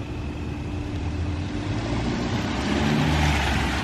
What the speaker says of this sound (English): turn on and drive off as fast as you can